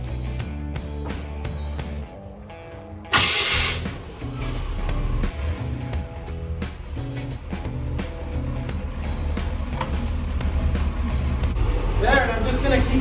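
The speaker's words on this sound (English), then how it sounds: "I'm gonna start the motor" A Chevy 350 V8 in a C3 Corvette cranks and fires during power steering flushing, a sharp catch followed by a loud, steady, low idling rumble close by.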